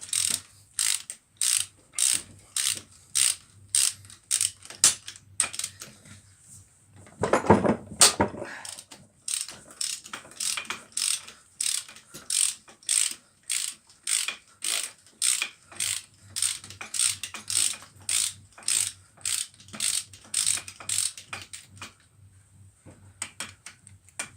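Ratchet wrench loosening bolts on the front axle of a Kubota L4150DT tractor during repair: a long series of close, loud rapid ratcheting clicks in steady bursts, with a short heavier clunk partway through.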